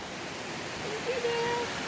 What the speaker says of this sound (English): there's another falls behind the main waterfall here at Palaypay